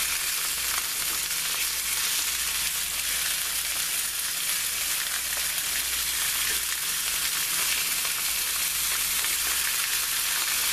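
Italian sausages sizzle steadily as they brown in a diamond-coated frying pan, a dense, continuous hiss that stays loud and even throughout with no talking.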